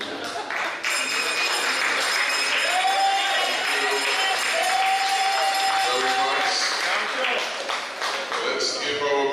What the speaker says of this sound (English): Let's give our Master of Ceremonies another round of applause